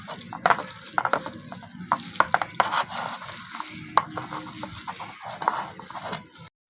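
Chicken pieces being kneaded by hand with spices and a little water into a thick pakora coating, giving irregular close wet squelching and mixing sounds with occasional bowl clinks, alone without talk.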